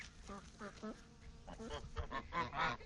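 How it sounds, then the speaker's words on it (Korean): Geese honk repeatedly in short, nasal calls, faint and somewhat distant, several birds calling over one another. "시끄럽게 울어대는 다른 거위들과 달리 홀로 조용히 앉아있는 이쁜이가 눈에 들어온다."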